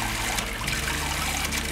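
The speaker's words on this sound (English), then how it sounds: "Whoa, that's water!" Water trickles and splashes through newly plumbed shower pipes in a converted school bus, a steady close wash of flowing liquid with no talk over it.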